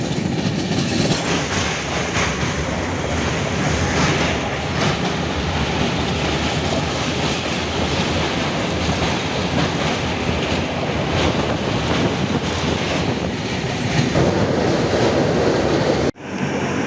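A passenger train moving at night on the Chennai to Kolkata route: a continuous loud rumble of carriages with rhythmic clickety-clack of wheels and faint squeals, steady throughout before a sudden cut near the end.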